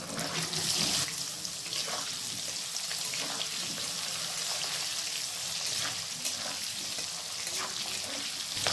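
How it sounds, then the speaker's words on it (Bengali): Potatoes fry in hot oil in a pan, a loud, continuous close-up hiss and crackle that holds steady throughout with no pauses. "এরপর আলুগুলোকে ভেজে নিতে হবে।"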